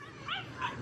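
A puppy gives two short, faint whimpering yips in quick succession, close by and otherwise alone.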